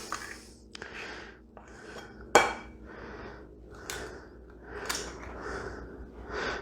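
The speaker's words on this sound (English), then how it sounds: "So take your batter, and we're just gonna scoop it on top" A small ice cream scoop drops dollops of batter onto a blackberry cobbler, producing quiet scattered clicks and soft taps, with one sharper metallic knock, in a hushed kitchen.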